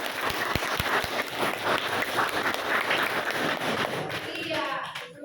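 Classroom applause from students, a dense burst of clapping that carries on for about four seconds with children's voices mixed in, then fades as a voice begins speaking.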